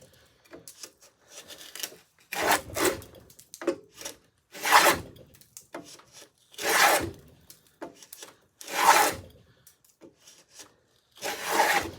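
A Stanley iron hand plane cutting a 3/4 inch dado in wood, giving repeated rasping strokes in an uneven rhythm, close and fairly loud, each pass a gritty scrape with short pauses between.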